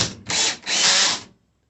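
A power drill whirs in two short bursts, a brief spin then a longer run, driving in a number 8 screw before stopping.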